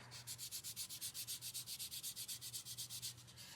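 Low-grit sandpaper rubs quickly back and forth on a small metal clay earring, a close, soft, rhythmic scratching of about eight strokes per second with a faint hum beneath.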